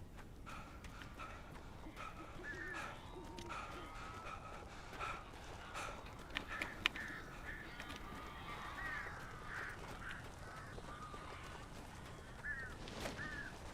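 Crows caw in the video game Alan Wake Remastered, several short calls scattered over a steady ambient bed of background noise, moderately distant and fairly faint.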